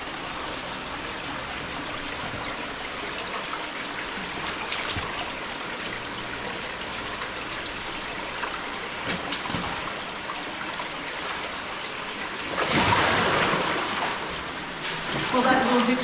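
Someone moves through cold water in a narrow canyon slot, a continuous wash of gurgling, trickling water with faint splashes and a louder surge of churning water toward the end.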